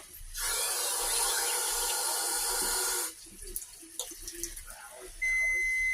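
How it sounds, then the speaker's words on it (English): Cold water runs from a tap into a cooking pot in a homestead kitchen, a steady close hiss lasting about three seconds before stopping, followed by light clinks and handling sounds. "I'm going to put cold water."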